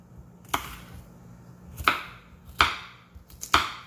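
A knife chops sweet peppers into little pieces on a cutting board, four sharp, separate thuds spaced unevenly about a second apart, close and clear over a quiet background.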